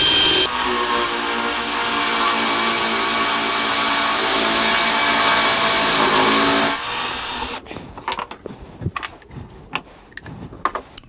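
A power drill bores steadily into the leg of a rustic wooden stool, a loud continuous whine lasting several seconds before it stops, followed by scattered knocks and handling sounds.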